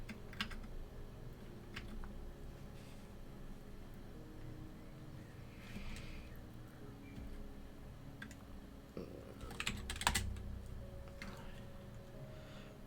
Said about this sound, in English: I think my keyboard is just very slightly out of alignment, so I'm using the wrong button.